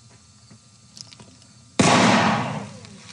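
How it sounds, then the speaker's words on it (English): Small lump of sodium dropped into water bursts with a sudden loud bang partway through, followed by a sustained fizzing, crackling roar that slowly fades, after a quiet stretch with faint clicks. "So the sodium reacts violently with the water"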